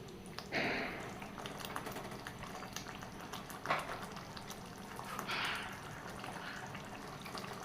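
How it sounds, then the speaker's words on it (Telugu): Paneer butter masala gravy simmering in a pan as it thickens and the oil rises, giving faint, soft bubbling and occasional gentle pops over a low, steady background. "గ్రేవీ దగ్గర పడేంత వరకు మళ్ళీ ఆయిల్ పైకి తేలేంత వరకు ఉడికించుకోవాలి"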